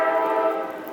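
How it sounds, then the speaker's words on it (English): Loud, sustained train horn blaring from a passing train, a steady multi-tone blast holding nearly unchanged and fading only slightly at the end, with no talk. "Sorry for the train, I can't help it."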